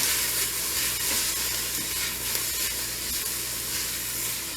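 Minestrone vegetables and spices sizzle steadily in an Instant Pot, a close, continuous frying hiss with faint stirring clatter underneath and no voices.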